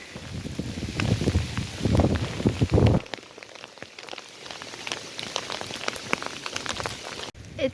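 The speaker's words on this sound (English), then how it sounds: "It started with hail and now it's just raining" Hail then rain pelts down on a hiking trail along the South Downs Way, loud dense patter close by at first, then easing to a lighter, steady fall of drops with gusts of wind.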